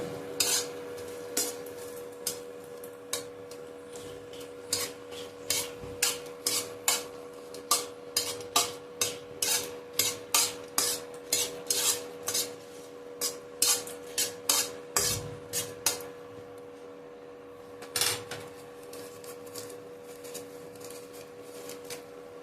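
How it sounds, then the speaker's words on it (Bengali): Bay leaf, dried chillies and dal being stirred in a pan for a khesari and chana dal dhokar dalna, with quick repeated scraping and clinking of a spoon against metal over a faint sizzle and steady background hum. "এবার আমি এটাকে ভালো করে নাড়াচাড়া করে নেব।"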